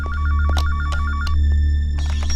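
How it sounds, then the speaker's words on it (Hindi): Telephone ringing in a tense thriller scene, a bright electronic ring repeating in rapid trilled bursts, loud and close over a low steady hum, with sharp clicks following and no talk. "बजने दो। फोन कट जाएगा।"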